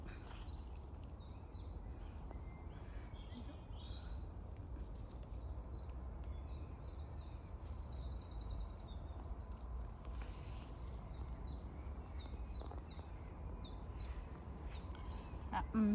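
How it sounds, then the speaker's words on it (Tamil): Birds chirping and twittering in an English rose garden, many small high calls scattered over a faint steady background hum, fairly distant and soft. "பறவைகள் சந்தோஷமாக பாடிட்டுருக்கு."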